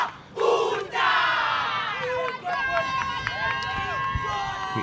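Youth Games volleyball crowd in a hall cheering and shouting for their players, loud overlapping voices rising in bursts, with chanting and whistle-like calls over a steady roar.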